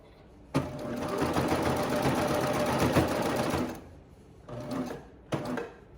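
A serger (overlock sewing machine) stitching over an overlapped serged seam, buzzing in one long steady run of about three seconds, then two short bursts, close and alone.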